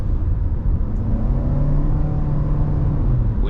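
A 2021 Toyota RAV4 Cruiser Hybrid accelerates on the road, its engine rising in a steady, loud drone with a climbing hum over continuous road rumble, no talk.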